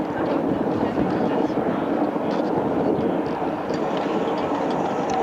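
A C-17 cargo airplane at the 2001 Avalon Airshow gives a sustained, rumbling engine roar at moderate distance, heard as a continuous broadband drone.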